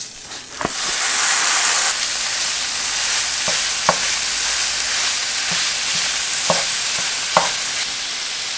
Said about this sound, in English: we're going to start browning our ground beef